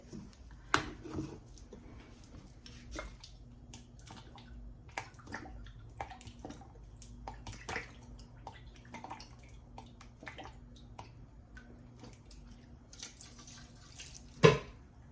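Lemon juice trickling and dripping into a container, with scattered drips and small clinks, closing with one sharper knock.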